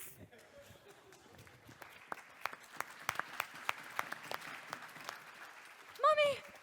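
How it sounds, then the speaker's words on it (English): A theatre audience at a stage play claps sparsely, with irregular individual claps building to a quicker patter, then a voice cries out briefly at the end. "Clap if you believe."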